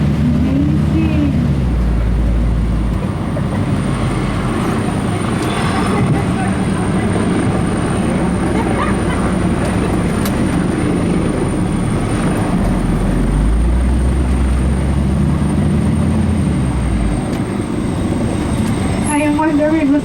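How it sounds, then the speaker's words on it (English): A helicopter passes overhead above Yas Island in Abu Dhabi, its loud, continuous rotor and engine roar heard throughout, with low rumbling swells as it moves across the sky. "see that helicopter?"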